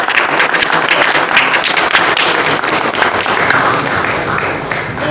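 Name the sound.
audience applause after art talk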